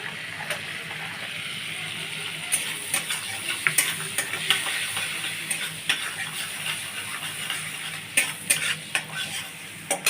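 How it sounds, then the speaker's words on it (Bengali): Garlic fries in butter in a pan for an egg butter tadka, with a steady close sizzle broken by repeated sharp scrapes and clinks of a spatula stirring against the pan. "রসুনটা ভাজা হয়ে গেছে"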